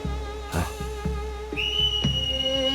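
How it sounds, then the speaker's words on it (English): A sustained, piercing whistle rings out in a Final Fantasy cutscene, rising in pitch and holding steady for over a second over soft musical background and brief percussive hits. "That whistle."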